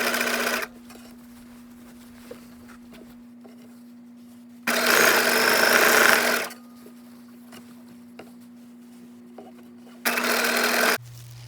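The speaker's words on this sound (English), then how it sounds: "Sew this flap into a 1 inch waistband tube for elastic and ribbon." A sewing machine stitches a 1 inch waistband tube for a rehearsal skirt in three separate bursts, short, longer, then short, with a steady electric hum in the pauses between runs.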